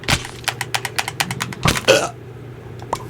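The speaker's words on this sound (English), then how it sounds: "It was a very violent burp." A loud, violent burp rips out close to the microphone after a run of quick rhythmic tapping clicks, the belch swelling and trailing off before quiet returns, with a couple of faint taps afterward.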